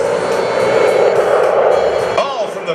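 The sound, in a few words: military jet aircraft on takeoff roll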